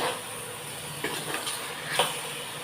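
Okra kara kulambu cooking in a pan as tomatoes are added, with a steady sizzle of frying and a few soft scrapes of stirring near the start and end, close and moderate in level.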